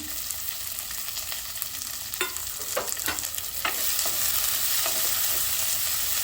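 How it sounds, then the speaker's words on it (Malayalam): Sliced onion, green chili and curry leaves fry in a pan after mustard seeds have popped, giving a steady close sizzle, with a spoon scraping and stirring through it in several sharp strokes and no one talking. "നമ്മൾ മുറിച്ച് വെച്ചിട്ടുള്ള ഉള്ളി പച്ചമുളക് കറിവേപ്പില ഇതൊന്ന് വരന്ന് കിട്ടണം"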